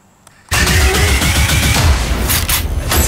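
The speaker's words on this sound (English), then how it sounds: "They're like shooting guns inside the court and stuff" A loud, dense volley of gunfire from an action movie trailer bursts in after a brief quiet start, rapid overlapping shots and booms continuing without pause to the end.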